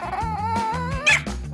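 A dog whines and yelps up close in a short, wavering, high-pitched cry rising and falling, ending in a sharper yip.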